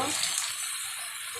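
A short, close rush of water is poured into a hot cooking pan of chicken skin, gizzard, liver and potatoes, giving a brief, steady hissing splash.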